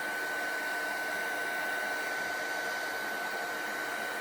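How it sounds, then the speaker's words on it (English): A heat gun dries ink on black cardstock for gold embossing, making a steady, even blowing roar that holds at the same level throughout, with a faint constant whine on top. "I'm going to use my heat gun now, and I'm going to just dry the ink."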